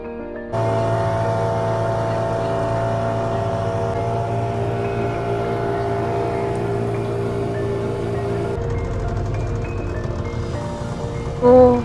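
Speedboat crossing open sea water near Alibaug, its engine droning steadily and loudly throughout with a harmonic hum, the tone shifting lower near the end.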